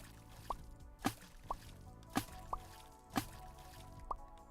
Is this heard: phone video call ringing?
no